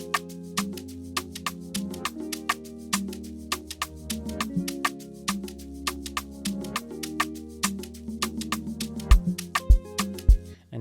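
A guitar pattern loops inside an FL Studio hip-hop beat, with plucked, sustained chord tones over a low bass and crisp, regular percussion hits. It plays at a moderate level and ends with a few punchy low thumps.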